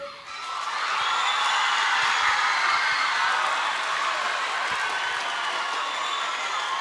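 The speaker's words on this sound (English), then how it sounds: "Clap if you want to clap." A school audience breaks into applause after a student's speech at a college event. The dense clapping swells quickly and holds steady, with scattered cheers and a few louder claps mixed in.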